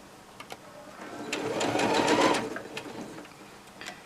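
A sewing machine stitches a fabric scrunchie hair tie in a short, close burst that speeds up and then slows, with a few light clicks around it and no talking.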